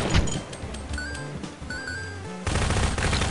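Gunfire in the top-down shooter Zombie Grinder, a run of rapid shots and clinks over game music, ending in a louder, denser burst near the close.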